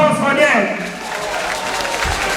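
An audience at a political alliance launch breaks into applause for its Western region coordinators, a dense wash of clapping over loud crowd noise.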